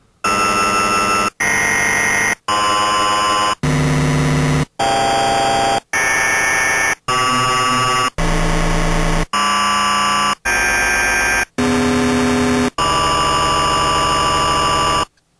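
A harsh, industrial-sounding synthesized sample in Renoise plays up a scale as about a dozen loud, evenly spaced notes, each buzzing with dense tones and ending in a brief silence. No one speaks.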